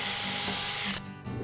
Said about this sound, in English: Now I'm pre-drilling the holes through the sides of the cabinet that will ultimately be used to attach the case